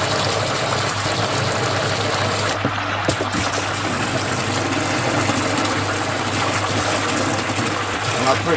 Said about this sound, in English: And I push the water around until I see it running clear.